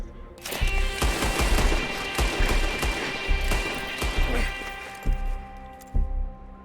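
Gunfire in Red Dead Redemption 2, a dense run of loud shots and rapid bursts over a busy game soundscape, thinning to a few sharp separate shots near the end.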